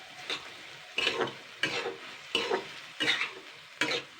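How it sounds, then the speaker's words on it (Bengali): Spatula stirring boiled potatoes with Maggi masala in a pan, six or seven soft scraping strokes in a steady rhythm with light sizzling, close and quiet. "এটা দিয়ে একটু হালকা নাড়াচাড়া করে নেবো।"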